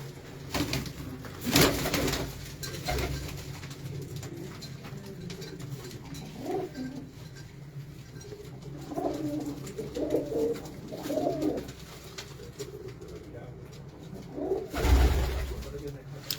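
Pigeons coo in soft repeated bursts, close by, with a few louder thumps and wing flutters at the start and end, while people talk quietly in the background.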